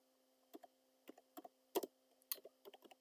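Keys clatter on a computer keyboard as a web address is typed, sharp clustered taps in short irregular bursts, close and clear against a quiet background.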